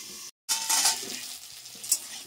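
A spoon stirs drumstick and potato curry in a pan on a gas stove, with soft scraping and sizzling, light clinks of the utensil, and no talking.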